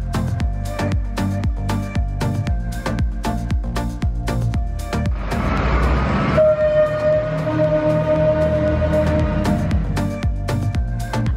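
A Class 158 diesel train at Llanfairpwll station in North Wales, with a steady rhythmic clacking of wheels over rail joints, a rising rush of noise, then a sustained tonal drone from the train nearby.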